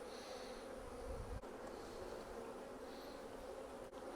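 A low, steady buzz of many honeybees hums close by around a hive, constant and droning with no voices over it.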